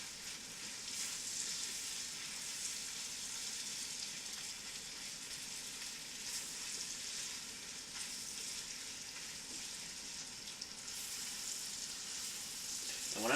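Pre-sliced white mushrooms brown in a hot pan for beef burgundy, giving a steady, close, hissing sizzle that continues unbroken throughout, with no voices.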